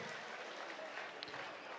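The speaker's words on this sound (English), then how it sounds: "How about a massive round of applause for these guys?" Faint applause from an audience after a Muay Thai fight, a soft continuous patter of clapping heard at a distance in a large venue.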